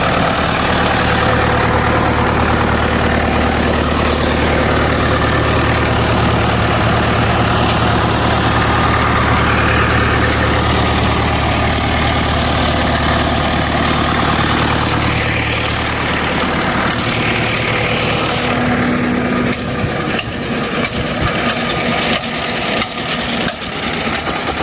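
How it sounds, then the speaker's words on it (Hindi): A farm tractor's engine idles with a loud, steady, low rumble and hum that runs unbroken for most of the stretch, then shifts and thins toward the end. No one speaks. "ये सारा ट्रैक्टर है माशाल्लाह।"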